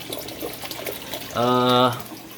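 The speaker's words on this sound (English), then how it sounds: "see how it's filling up with water. And it basically hits that, overflows into that pipe, and comes back into here." Water fills an aquaponics fish tank and overflows into a return pipe, a steady close trickle with a short humming tone rising midway before the flow settles back.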